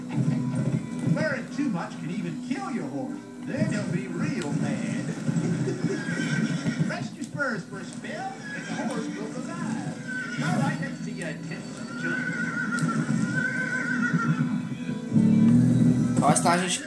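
Horse neighing and hoof clip-clop in the Western video game Gun, set around Dodge City, with game sounds running steadily throughout and someone talking over them.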